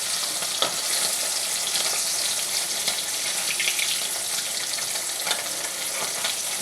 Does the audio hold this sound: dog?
no